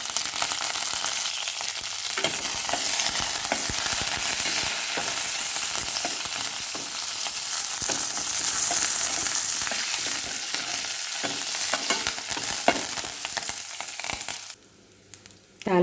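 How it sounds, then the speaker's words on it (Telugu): A tempering of dried red chillies, crushed garlic and fresh curry leaves sizzles and crackles loudly in hot oil, a dense steady frying hiss that breaks off near the end. "తాలింపు వేగిపోతుంది."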